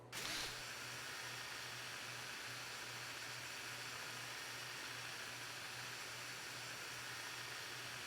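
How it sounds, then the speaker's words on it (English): A drain inspection camera winds back onto its mini reel, producing a steady, faint motorized whir with a low hum underneath that runs unchanged for several seconds after a brief start. "Reel in the camera by squeezing the trigger until the camera returns to the end of the mini reel."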